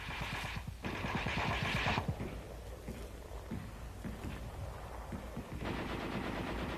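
Heavy machine guns from 1944 firing in the attack: rapid bursts of automatic fire, several sustained volleys with brief pauses, loud and close over a rumbling battlefield background.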